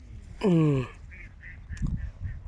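A loud, nasal quack rings out nearby, followed by softer, shorter duck calls scattered over faint background noise.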